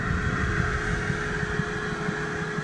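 An Owens Corning Attic Cat insulation blower machine runs with a steady, loud motor drone and airy rushing noise, continuous and unbroken.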